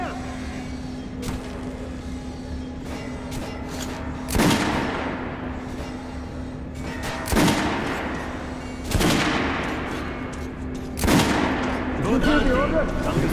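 Soldiers fire guns in the video game Metro Last Light Redux, with loud, sharp shots and bursts spaced a few seconds apart over a steady hum. Some voices can be heard between the shots.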